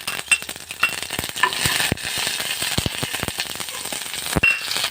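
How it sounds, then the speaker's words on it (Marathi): Mustard seeds and curry leaves frying in a kadai, giving a continuous crackling sizzle with sharp pops and spatters scattered throughout, close and fairly loud, with no talking. "सेम कढाईन मोहरी घालून घेवपाक जाय आनी मातशी करपिलाची पानां घालून घेवपाक जाय"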